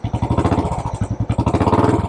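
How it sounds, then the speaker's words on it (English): A Royal Enfield Classic 500 military edition, a big single-cylinder pushrod overhead-valve engine, fired up after an oil change, thumping loudly and close in a steady, rapid pulsing rhythm with no talk over it. "Royal Enfield Classic 500. Let's see if we can get it to start."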